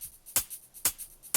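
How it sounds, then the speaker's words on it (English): A shaker and hi-hat drum loop ticks in a steady pattern, soft shuffling shaker hits alternating with three brighter, sharper hi-hat strikes, quiet and isolated. "So without this new layer, the shaker and main hi-hat sound like this."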